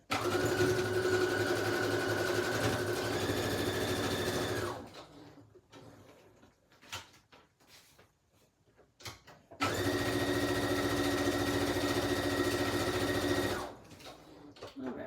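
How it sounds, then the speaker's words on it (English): A sewing machine stitching across the top and bottom of layered fabric pockets, two loud steady whirring runs of about four seconds each, separated by quiet handling noises. "then I'm just going to sew across the top and bottom of the fabrics"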